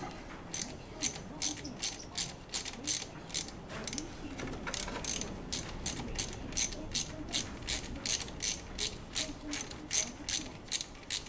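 A ratchet wrench undoing the bolts holding the radiator on a classic Mini Moke, a close series of quick rhythmic clicking bursts repeated steadily throughout, with faint voices in the background.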